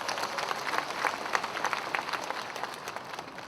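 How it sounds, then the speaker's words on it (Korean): Delegates at a Democratic Party convention in Gwangju applaud party leader Choo Mi-ae, a fairly faint, steady crowd clapping heard from a distance that thins out slightly toward the end. "2년 동안 고생하셨던 우리 추다르크 추미애 대표에게 다시 한번 뜨거운 박수 부탁드립니다."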